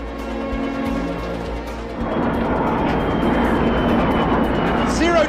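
An airplane accelerating to about 1.8 G during a zero-gravity parabolic flight fills the space with a loud, steady cabin roar that grows fuller and louder partway through and then holds.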